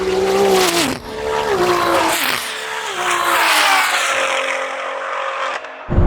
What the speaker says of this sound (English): The Audi's coming past.